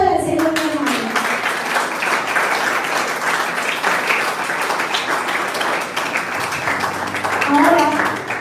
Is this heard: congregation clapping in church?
yes